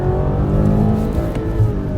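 2021 BMW M8 Competition Gran Coupe engine held at about 6000 RPM under hard driving, a dense, steady high-rev roar with layered harmonics, loud and close throughout, no talking.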